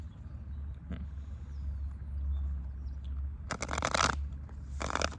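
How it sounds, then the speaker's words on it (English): A tarot deck is shuffled at close range in two short, crisp riffling bursts near the end, over a steady low rumble with faint birdsong in the background. "We're gonna shuffle again."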